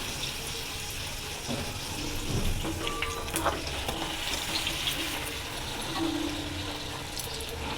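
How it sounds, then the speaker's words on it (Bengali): Pea-stuffed kachori frying in hot oil in an iron wok, a steady broadband crackle and hiss running throughout with small bubbling pops, fairly close and without talk. "এরকম করে আমি এক এক করে ভেজে নেব।"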